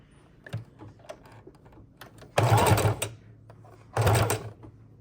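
A sewing machine stitching fabric scraps runs in two short, loud bursts of rapid whirring, with quieter clicks and taps between them, heard up close.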